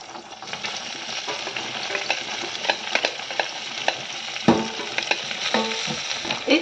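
Green beans sizzle steadily in a hot pan while a utensil scrapes and stirs them in repeated short strokes, close and fairly loud, with no talking.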